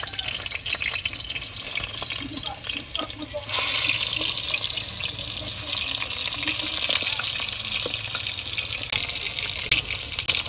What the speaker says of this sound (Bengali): তেল গরম হয়ে গেছে, এখন পটলগুলো ভাজে নেই এক এক করে।